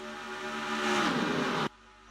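A stock car racing engine roars and climbs in pitch as it passes close by at Auto Club Speedway, then cuts off abruptly, leaving a low rumble in the background.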